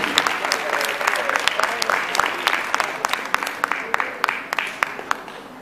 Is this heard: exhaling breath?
no